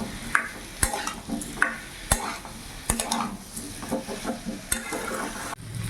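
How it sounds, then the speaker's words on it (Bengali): Papaya and mung dal sizzle in a pan while being stirred, with irregular scraping strokes and sharp metallic clinks of the spoon against the pan over a steady frying hiss, close up and without talk. "এবার ভালো করে মিশিয়ে 2-3 মিনিট আমি কষিয়ে নেবো এইভাবে।"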